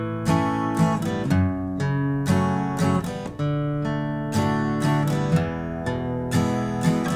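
Acoustic guitar plays the alternating bass-note and strummed-chord pattern of a song, moving through chord changes in a steady, moderate rhythm, close and clear with no talking.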